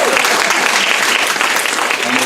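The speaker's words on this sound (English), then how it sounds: "And even another clap." An audience claps at a speaker series event honouring a guest, continuous loud, dense applause filling the room throughout with no pauses.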